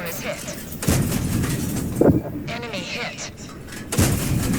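Tank cannon shots in World of Tanks, three sharp booms spaced about a second or two apart, cutting through continuous game noise and engine rumble, with talk running underneath.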